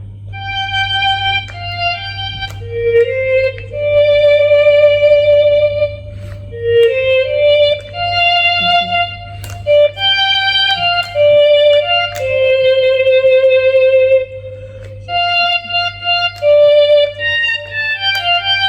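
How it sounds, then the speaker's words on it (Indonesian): Violin voice played on a NUX NES-1 digital wind instrument, a sustained bowed-string tone carrying a melodic line of held and gliding notes in short phrases, clear and close with a steady low hum beneath, no talking. "Nah, ini violin seperti biola."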